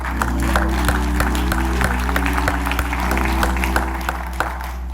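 Congregation applauding inside a Baptist church at a baccalaureate service, a steady wash of clapping over a low sustained organ-like hum, with scattered sharper claps standing out throughout.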